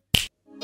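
A single crisp, close finger snap in a children's cartoon, followed after a brief silence by a soft tonal sound.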